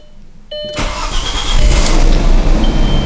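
A 2001 Audi B5 S4 starts in a garage: a brief starter crank catches into a loud, close engine roar that settles into a rough, steady idle.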